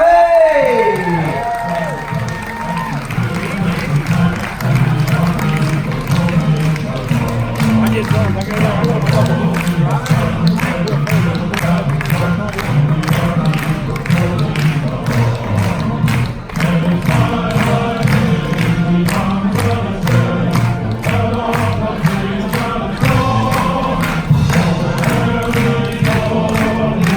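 A big cruise-ship crowd at a military appreciation party cheers, whoops and applauds the Army veterans, loud sustained clapping and shouting continuing throughout with some voices mixed in.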